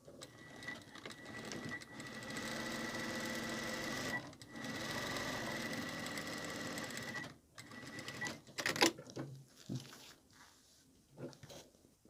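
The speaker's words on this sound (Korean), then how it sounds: "또 1cm씩 박음질 해줄게요" A sewing machine stitches fabric for a wallet pouch, running in long steady buzzing stretches with brief pauses between seams, close and loud with no talking.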